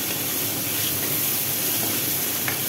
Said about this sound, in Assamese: বিলাহীখিনি মই এতিয়া কমি নোযোৱালৈকে বিলাহীখিনি ধুনীয়াকৈ ভাজি ল'ম।